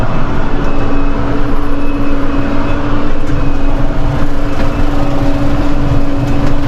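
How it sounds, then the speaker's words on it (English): A tractor on a Christmas tree farm runs at power takeoff speed, its engine a loud, steady, close drone with a constant hum and no letup throughout. "this is our newest tractor, I have my preset set for throttle"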